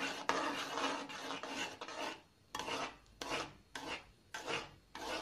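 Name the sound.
stirring cornflour halwa with cashews in a pan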